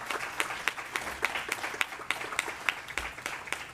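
Scattered, sparse clapping from a small group at a board of education meeting, with individual claps standing out in an irregular rhythm rather than a dense roar.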